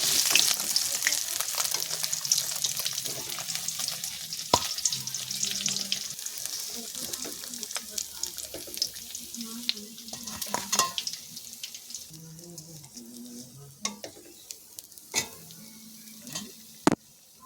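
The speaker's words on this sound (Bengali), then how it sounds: "মাছগুলো ভাজা হয়ে গিয়েছে, এবার আমি তুলে নেব।" Lata fish sizzle and crackle in hot oil, a continuous frying hiss with scattered pops and occasional clinks of a spatula or utensil against the pan, close and fairly quiet, no talking.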